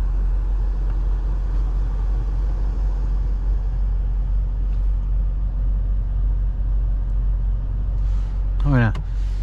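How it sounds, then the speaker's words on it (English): A 2023 BMW M850i Gran Coupe V8 engine drones steadily from inside the cabin in Sport Plus mode, with a low exhaust rumble throughout and a brief sharper sound near the end. "you can really hear the exhaust valve open up back there with Sport Plus"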